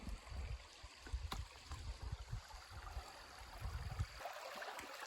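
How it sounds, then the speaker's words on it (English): Stream water flowing over rocks at an Appalachian Trail ford in fall, a low steady rush and gurgle close by with faint wind, no talking. "Have a water crossing."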